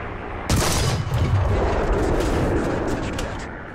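A tank cannon in the video game War Thunder fires once with a sudden heavy boom, then a long, loud rumbling tail that slowly fades.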